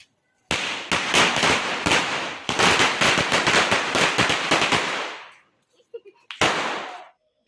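Homemade chain firecrackers set off for Diwali, a loud rapid string of sharp cracking bangs for several seconds that sputters out, followed by silence and one more burst near the end.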